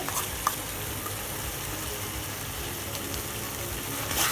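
Black salt is stirred into gooseberry (amla) pickle in a pan, giving a steady low sizzle with faint stirring scrapes, close and even throughout.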